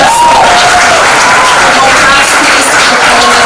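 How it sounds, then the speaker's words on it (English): Sustained, dense applause from a convocation audience at a university academic conference honoring a former convocation president, loud and continuous with crowd noise throughout. "More claps,"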